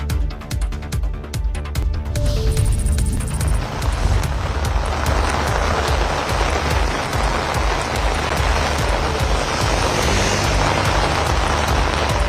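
Heavy rain hammers down in Rameswaram, a loud, unbroken roar of drops striking surfaces that builds within the first few seconds and then holds steady, with no voices.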